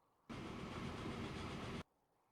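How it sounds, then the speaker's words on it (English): A train in the Transport Fever video game gives a steady, loud rolling rumble for about a second and a half. It starts and stops abruptly, with no talk. "Did that train just turn around?"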